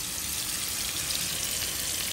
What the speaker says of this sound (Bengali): গরম মশলাটা দিয়ে এটাকে আরও একটু ভাজা ভাজা করে নেব